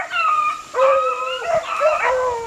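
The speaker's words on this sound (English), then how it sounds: "look all them dogs going through there" Several dogs howl and whine together in a sustained, wavering chorus with yips mixed in, fairly close and loud, with no talking, at a rabbit pen in Hampton, South Carolina.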